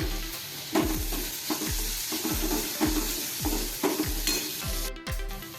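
Chopped tomato and spices being stirred in a frying pan, a steady sizzle under rhythmic scraping strokes of a spoon against the pan, about two per second, close and clear.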